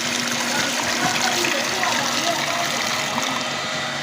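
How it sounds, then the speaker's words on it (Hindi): Water gushes and flows out steadily, a loud continuous rushing and splashing that holds without a break. "देखो यार, वो देखो सामने पानी आ गए।"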